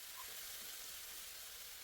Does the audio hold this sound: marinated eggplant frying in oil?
yes